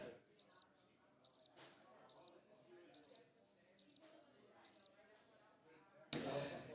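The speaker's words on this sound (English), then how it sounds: "I didn't realize how long that cricket thing is" A crickets chirping sound effect, six evenly spaced bursts of rapid high trills about every 0.7 seconds, with faint low talk underneath and a louder noisy sound at the end.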